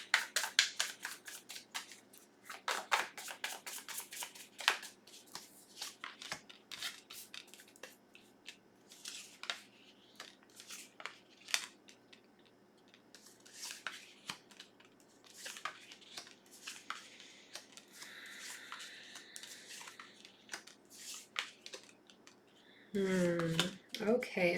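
Tarot cards are shuffled in a long run of crisp riffling bursts and soft slaps, close and moderately loud, with a brief voice near the end.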